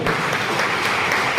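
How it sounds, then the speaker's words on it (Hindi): Brief, steady clapping from a seminar audience in a hall, a continuous even patter of many hands at close to moderate distance. "एक तालियां बजा करके दिखाइए।"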